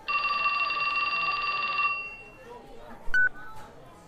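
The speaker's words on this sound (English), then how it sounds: "His phone rang." A phone rings with a steady electronic trill for about two seconds in the video game 428: Shibuya Scramble, then a short electronic blip follows over quiet background.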